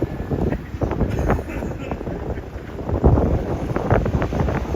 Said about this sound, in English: Oh, that's windy, man.